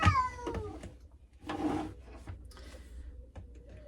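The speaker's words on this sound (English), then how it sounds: "Okay, cat's coming in." A cat comes in at a door and lets out one clear falling meow at the start, followed by soft shuffling and a short, thin vocal noise in a quiet shed or workshop.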